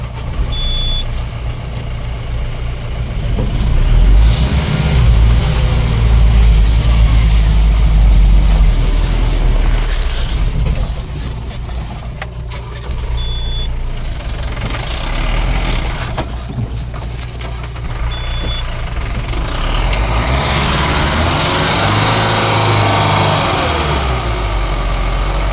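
A jeep struggles up a steep hill track at Kolukkumalai with its tires spinning. Its engine roars loud and close, surging and dropping in repeated revs over a sustained rough drone.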